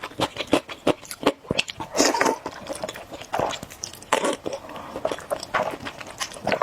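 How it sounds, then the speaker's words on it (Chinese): Someone eats sticky, homemade river snail rice noodles alongside a crispy fried chicken leg, with close, wet chewing, slurps and irregular bites following one another in quick succession, loud and intimate. "我们今天吃黏糊螺蛳粉，还配了鸡腿。"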